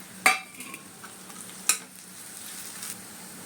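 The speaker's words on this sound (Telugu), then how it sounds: "ఇప్పుడు వేపు పెట్టుకున్న ఈ దొండకాయ ముక్కలు ఫ్రై చేసుకున్నవి వేసేద్దాం" Fried ivy gourd pieces are stirred into tempering in a pan, with two sharp scraping knocks of the spoon against the pan over a faint sizzle.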